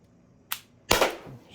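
A single Umarex HDP50 pistol shot, preceded by a faint click, then a sharp close pop with a brief trailing rattle, in an otherwise quiet setting.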